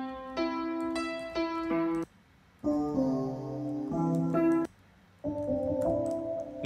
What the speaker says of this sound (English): I'm gonna do some keys.